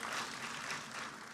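An audience at an annual members' meeting claps together in a large hall, a brief, steady wash of many hands heard at a distance and fairly faint.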